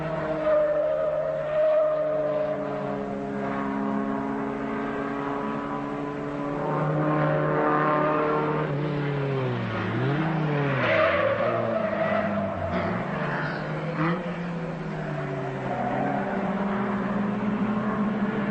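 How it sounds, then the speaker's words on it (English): Saab and Dacia rally cars at the 1978 Rally of the Danube race along a winding Romanian road, their engines roaring and shifting pitch with tire squeal, heard continuously over roughly eighteen seconds without speech. "The Swedes, Krana and Bertilsson in their Saab"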